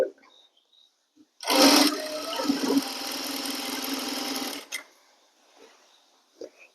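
A sewing machine runs a steady, fast stitching burst of about three seconds along kurti lining, loud and close, then stops, with light handling sounds before and after and no talking.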